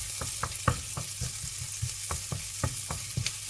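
Chopped onion frying in hot oil in a home kitchen pan, a steady bright sizzle punctuated by regular scraping stirs of a utensil, close and continuous with no talking.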